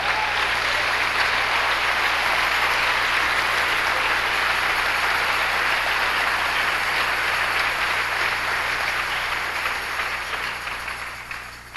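A church congregation gives a long, dense burst of applause that stays loud and even for about ten seconds before tapering off at the end.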